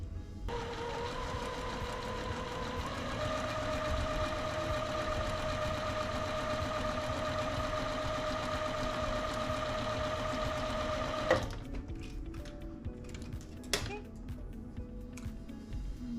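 A sewing machine stitches quilt pieces in a fast, steady whir for about eleven seconds, then stops, followed by a few soft clicks and handling noises nearby.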